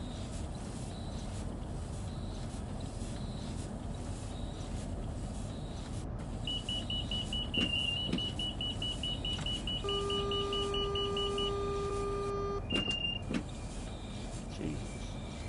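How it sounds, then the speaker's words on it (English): Electronic beeps from a Train Sim World 3 train: a long steady high tone, then held mid and lower tones overlapping, followed by short chirps, all over a constant low cab rumble. "All the beeps there today."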